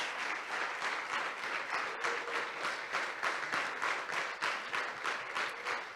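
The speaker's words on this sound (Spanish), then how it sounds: "Fuerte ese aplauso al Señor" Sustained applause from a church congregation after a prayer, steady and dense for the whole stretch with no break.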